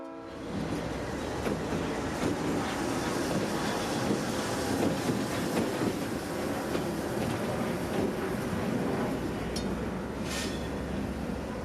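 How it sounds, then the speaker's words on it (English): A heavy 36-year-old Seminole Gulf Railway diesel locomotive rumbles past nearby in Sarasota, Florida, its loud steady roar mixed with wind buffeting the microphone throughout. "a 36-year-old locomotive passing a 50-plus-year-old sign."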